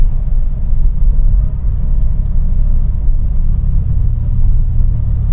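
Car cruising steadily at a constant 60 km/h while its drive mode is switched to normal, giving a continuous low engine and road rumble that stays even and close throughout, with no talking.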